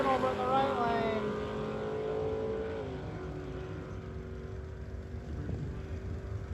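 A Chevy Nova wagon and a Pontiac launch at a drag strip, engines revving hard and fading as the cars pull away, with the right-lane car spinning its tires. A voice talks over the engines.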